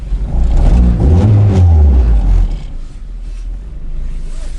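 A car with a K20A engine on its first test drive pulls hard with a loud, deep engine roar that rises in pitch, then eases off to a lower, steady drone as the revs drop, with no voices.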